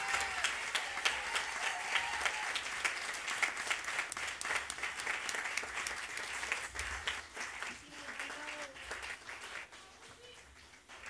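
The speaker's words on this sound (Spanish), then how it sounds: "Fuerte ese aplauso para él." Loud, sustained audience applause at a live concert, dense crowd clapping with faint voices and cheers mixed in, gradually thinning toward the end.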